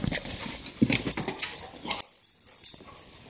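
Small dog whimpers and yips in short bursts, with light scuffling and tapping of paws, inside a 2020 Ford Transit Connect camper van; the sounds are close, and background noise falls away partway through.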